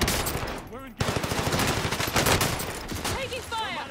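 Rapid automatic gunfire in the tactical shooter game Rainbow Six, a dense close burst of shots running for most of the few seconds, with brief voice sounds at the start and end.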